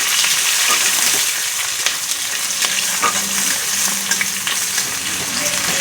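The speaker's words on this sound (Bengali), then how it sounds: "দিয়ে এখন সুন্দর করে পেঁয়াজটা ভাজা করব।" Chopped onions fry and crackle in hot oil while being stirred for a mutton kosha, a steady close sizzle with occasional scraping clicks from the spoon and no talking.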